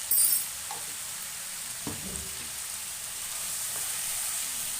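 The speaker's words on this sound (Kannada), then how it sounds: "ಚೂರು ಫ್ರೈ ಆಗಲಿ ಇಷ್ಟಕ್ಕೆ ಟೊಮೊಟೊ ಒಂಚೂರು ಮೆತ್ತಗಾಗಲಿ" Tomato fries in a pan with a soft, even sizzle, joined by a couple of brief stirring scrapes and a short clatter near the start.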